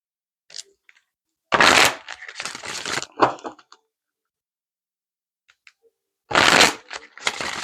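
Angel oracle cards are shuffled close by in two brisk riffling bursts, with light taps and clicks between them and near silence in the gap.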